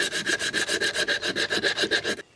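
Emery paper wrapped around a stick rasps back and forth over a wooden frame being prepared for resin art, about a dozen quick even strokes in a steady rhythm, close and clear, then stopping abruptly.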